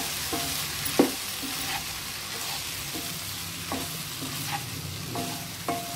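Coriander and cumin powder cook in oil within a potato and egg curry, a constant close sizzle with periodic stirring scrapes and taps of a spoon against the pan.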